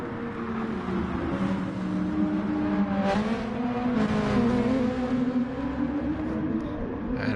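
Race cars including a Toyota run side by side in an endurance race at the Nürburgring Nordschleife, a steady engine drone with shifting pitch as they approach heavy braking, continuous and fairly close.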